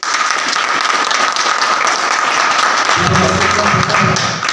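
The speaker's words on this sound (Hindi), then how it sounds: "एक बार जोरदार तालियां दीजिए" A crowd at a financial-freedom seminar breaks into loud, sustained applause, dense and continuous clapping from many hands, with a low rumbling murmur rising beneath it toward the end.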